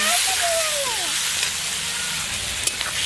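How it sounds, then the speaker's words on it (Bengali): Pieces of goat fat fry in hot oil with a dense, continuous sizzle and crackle, close and loud, a few faint spatters and pops over the steady hiss, no speech. "এবার ওই তেলেই খাসির চর্বিগুলো একটু ভেজে নেব।"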